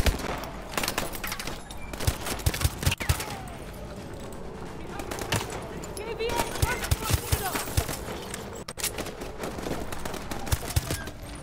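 Automatic gunfire in the Call of Duty Advanced Warfare campaign, sharp repeated shots and bursts spread through the passage over game sound and voices.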